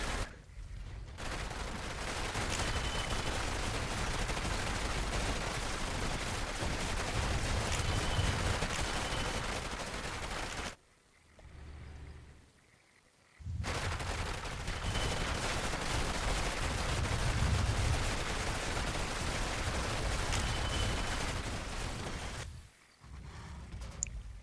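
Dense, continuous infantry gunfire and explosions from a strategy video game battle, loud and sustained for long stretches with two brief quieter breaks, no talk.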